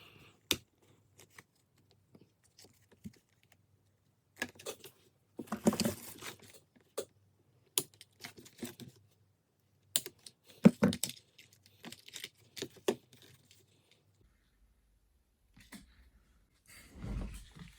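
Packaging of an IKEA charger and braided USB-C to USB-C cable being opened by hand: quiet, intermittent bursts of rustling, crinkling and small clicks separated by silence, close to the microphone.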